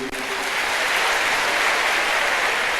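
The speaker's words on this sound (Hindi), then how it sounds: "चाहूंगा कि तालियां और जोर से होनी चाहिए।" An audience at an official Delhi event with the Deputy Chief Minister claps loudly and steadily, a thick continuous roar of applause filling the short stretch.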